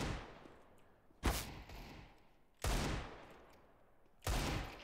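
Three spaced bursts of close, loud gunfire in a video game, each a sharp crack with a decaying tail, arriving roughly every one and a half seconds.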